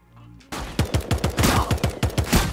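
Rapid gunfire in the battle royale video game Radical Heights: a close, loud burst of about a dozen sharp shots in quick rhythm, following a brief quiet tone.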